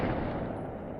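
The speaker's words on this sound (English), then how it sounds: "The loud gunshot startled their daughters" A rifle discharges indoors, a loud boom with a dense rumbling decay lasting about a second.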